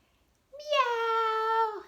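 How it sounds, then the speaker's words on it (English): A cat gives one clear, drawn-out meow, close and fairly loud against an otherwise quiet background. "And what does a kitty say?"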